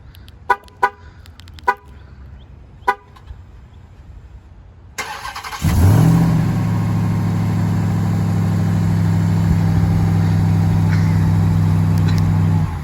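A 2022 Ram 1500 TRX pickup gives a few short chirps, then its supercharged V8 cranks and fires with a loud bark before settling into a deep, steady, rumbling idle that holds to the end.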